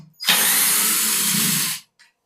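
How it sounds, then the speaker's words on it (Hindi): Budget cordless drill driving a screw through a magnetic adapter, a single steady whir lasting about one and a half seconds before it stops, close and clear, no talking. "स्क्रू लगाने के मामले में तो इस मशीन का कोई जवाब नहीं।"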